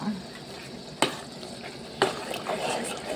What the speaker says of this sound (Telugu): ఇలా మిక్స్ చేసుకోవాలి, ఆయిల్ అంతా పైకి వచ్చేటట్టు మిక్స్ చేసుకోవాలి